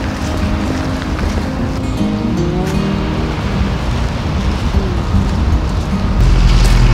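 A car driving home on the road, heard from inside as a steady, loud low rumble of engine and tyre noise, with a heavier surge near the end.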